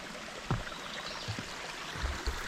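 Creek water rushes under a small wooden footbridge in a wooded forest, a steady broadband wash with a few soft splashes and knocks, moderately close and heard alone.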